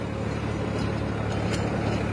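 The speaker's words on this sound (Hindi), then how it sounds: "बिना ड्राइवर के ट्रैक्टर चल रहा भाई।" A Farmtrac 60 tractor engine idles on its own with no driver aboard, a steady low rumble that holds unchanged and fairly loud throughout, with no voices.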